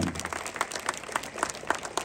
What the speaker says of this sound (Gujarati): તાળીઓ પાડો બધા